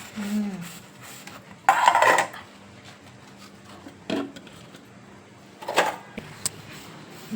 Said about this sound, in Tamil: எப்படி மேலே இவ்வளோ பாத்திரத்தை கழுவுறீங்க?